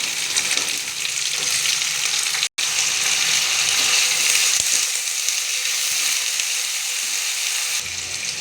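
Okra and vegetables sizzle loudly and continuously in hot oil, a dense crackling hiss close up, with a brief stir and no talking.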